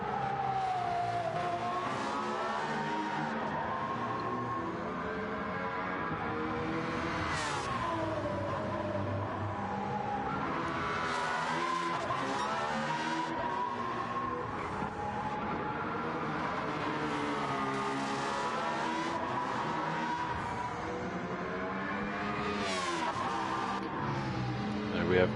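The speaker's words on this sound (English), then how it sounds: "Pure pops when it's shifting gears. Sounds very aggressive." A race car in Gran Turismo 7 drones and revs through gear changes, its engine note rising and falling, with crackling pops on upshifts over a steady, continuous roar.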